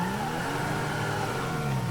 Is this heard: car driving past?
yes